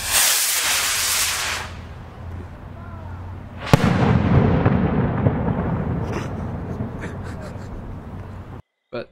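Fireworks effect from a video game mod: a broadband hiss, a sharp loud crack near the middle followed by a long crackling, sizzling tail, then a brief silence before another burst at the end.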